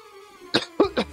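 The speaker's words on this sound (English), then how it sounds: "I gotta stop coughing." Three sharp, close coughs in quick succession from a person, following a short hum-like vocal sound, loud and abrupt against a quiet background.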